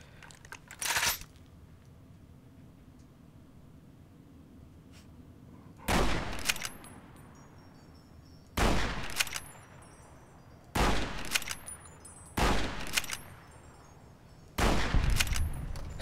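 Six sharp gunshots ring out in Fallout New Vegas, fired singly and spaced a couple of seconds apart over a low ambient hum, with no speech between shots.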